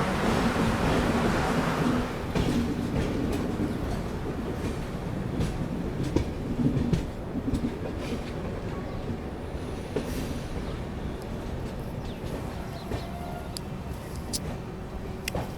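The Jammu Mail passenger train runs near Udhampur, with a continuous loud rumble of wheels and carriages and occasional clicking from the rails, heard from on board.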